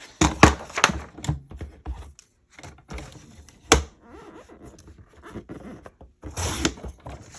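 Scrapbook paper with a leaf pattern is torn and cut by hand. Close, irregular ripping, tearing and snipping sounds come in uneven bursts with brief quiet gaps, and there are sharper rasps near the start and end.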